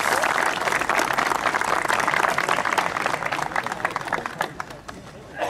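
Audience applause at the Rali Cortiçada 2022 historic regularity rally event: dense, sustained clapping from a crowd that holds steady and then thins out toward the end.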